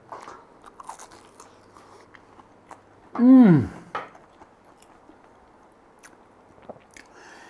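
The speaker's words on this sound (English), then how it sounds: "got that crunch on the outside from those breadcrumbs" A single loud, close bite into a crunchy breadcrumbed cod and mashed potato fishcake with parsley, a sharp crackling crunch standing out from quiet background and faint chewing sounds.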